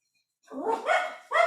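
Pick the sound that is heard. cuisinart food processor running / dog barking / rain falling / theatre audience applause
dog barking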